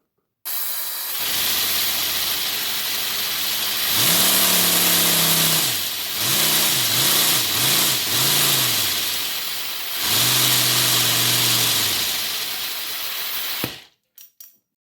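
A 3D printed V10 air engine with enlarged bore and longer-opening valves runs on compressed air, hissing steadily while its pitch rises and falls through several rev surges, loud and close, then cuts off abruptly near the end.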